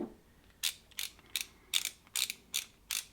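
A torque wrench ratchets as it loosens a reverse-threaded bolt on a Favero Assioma power pedal during a bearing replacement, giving seven close, crisp clicking bursts in steady rhythm with no talk.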